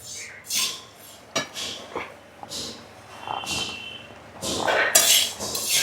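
Whole urad dal being dry-roasted and stirred in a pan at home, giving scattered scraping and clinking strokes of a spoon against metal with rattling grains, close and moderately loud, with quiet pauses between bursts.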